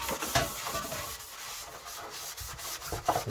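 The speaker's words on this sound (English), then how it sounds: "we're going to get some of the blue roll and we're going to give it a bit of a clean up, get any grease and stuff off with a good old brake cleaner" Paper towel rubbing and wiping with brake cleaner over a 1/5-scale Kraton 8S EXB RC car body shell, a close, steady scrubbing hiss with a few sharper swipes, no talking.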